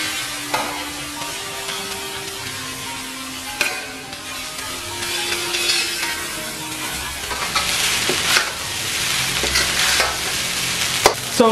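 Shrimp fried rice with dark soy sauce stir-fries on high heat, a loud continuous sizzle broken by repeated scraping and clattering strokes of a spatula against the pan, with no talking.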